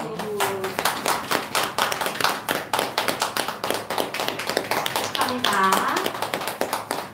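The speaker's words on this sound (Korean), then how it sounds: "박수." A crowd claps steadily and enthusiastically at a church youth worship service, rapid sharp claps continuing throughout, with some voices briefly heard among the applause.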